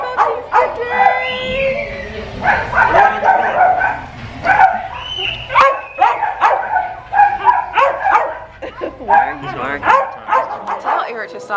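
Puppies close by give repeated high yips, barks and whimpers in quick bursts, mixed with excited human voices talking over them throughout.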